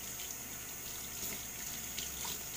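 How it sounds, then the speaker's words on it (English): Water pours steadily from a tap into a sink while hair is rinsed, making a continuous close rushing hiss with slight splashing and no voices. "you make sure that you really rinse well"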